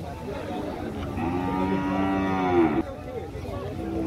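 Cattle at a livestock fair in Campo Grande, Alagoas, Brazil, with one long, loud moo rising out of a busy market murmur and a second fainter low call after it.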